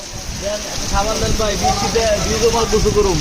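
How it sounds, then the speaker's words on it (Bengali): Rain falls in Tejgaon, Dhaka, as a constant broad hiss that lasts throughout while a voice talks over it. "আল্লাহর রহমতের বৃষ্টি।"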